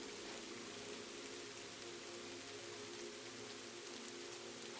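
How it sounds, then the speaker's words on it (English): Steady rain on a rainy night in Kyoto, Japan, heard from indoors as a continuous, even hiss with no break and no voices. "The rain is steady now."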